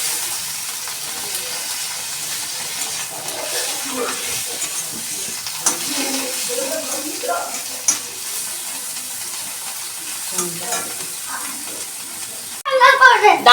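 Chow mein frying and being stirred in a pan, a steady sizzle with scraping stirs throughout, with a voice speaking over it and a louder clatter at the end.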